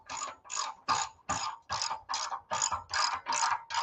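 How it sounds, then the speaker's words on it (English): A ratchet tightens the crossover pipe on a Harley-Davidson exhaust during a Stage 2 build, giving about ten evenly spaced raspy bursts. Each stroke is close and moderately loud, with no talk over it. "I'm tightening up the crossover pipe"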